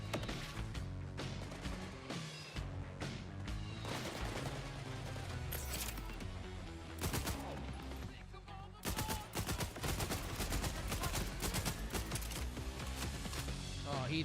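Video game gunfire, with rapid bursts and scattered shots rattling almost continuously over a dense, busy game mix, with brief gaps around the middle and louder clustered volleys toward the end.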